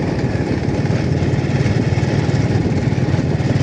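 A motorcycle engine runs steadily while the bike is ridden one-handed along a winding road. It makes a loud, continuous, close-up drone with no break across the whole stretch.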